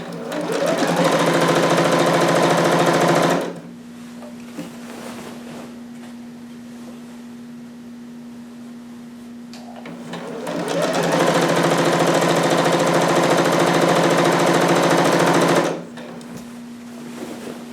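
A sewing machine runs stitching a 5/8 seam on a harem jumpsuit, in two long loud bursts separated by a quieter pause with a steady motor hum.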